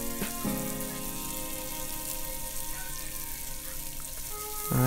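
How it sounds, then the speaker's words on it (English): Minced garlic sizzles in a frying pan previously used for shrimp, a faint, steady crackle with a few louder pops and clatters at the start and end, heard alone without talk. "I'm going to add that to my frying pan, the same frying pan that I fried the shrimp in."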